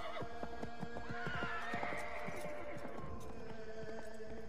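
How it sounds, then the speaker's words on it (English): Horses in Assassin's Creed III neigh loudly while hooves clop and gallop in a quick, uneven rhythm, close and clear over a faint background hum. "There goes our horses."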